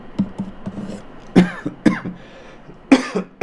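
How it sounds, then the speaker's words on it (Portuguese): Several harsh coughs in a row, loud and close, separated by short pauses and softer throat sounds. "tossi no meio da aula"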